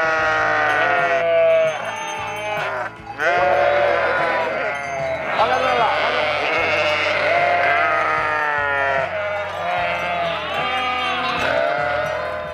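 A flock of sheep without lambs, earlier separated, bleats loudly and constantly as a shepherd and his sheepdog move them into a new pen in Spain, many overlapping cries near and far, with a low rumble underneath.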